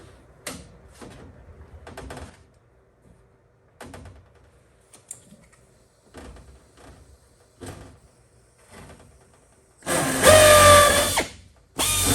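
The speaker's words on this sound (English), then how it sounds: "I'm going to drill the next hole" Quiet tapping and clicks, then a loud power drill whirs for about two seconds close by, drilling a hole while joining a RANS S-21 aircraft tailcone to its fuselage cage, cutting off abruptly.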